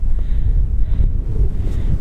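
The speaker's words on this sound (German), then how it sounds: "ich glaube, es ist ziemlich windig hier oben" Steady low wind buffeting a microphone, a continuous rumbling roar with gusty swells throughout and no other sounds.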